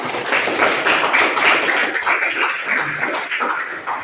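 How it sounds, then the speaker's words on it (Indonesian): Students in a classroom clap their hands together, a dense, lively burst of applause close by that carries on steadily for several seconds and tapers slightly at the end. "Kita tepuk tangan."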